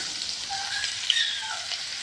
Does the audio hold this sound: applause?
no